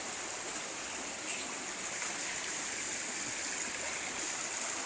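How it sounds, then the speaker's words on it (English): A rain-swollen creek near Ontonagon in Michigan's Upper Peninsula, usually little more than a trickle, rushes steadily after hard, prolonged rain, a constant broadband flow of water heard close and alone. "I don't think there's normally much of a creek here"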